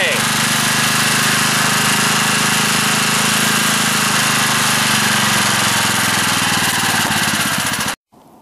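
A generator engine fueled by wood stove smoke runs loud and steady at close range, a constant droning hum that cuts off abruptly near the end, leaving only faint background.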